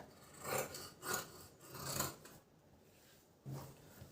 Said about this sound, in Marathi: आता आपण हे कटिंग करून घेऊया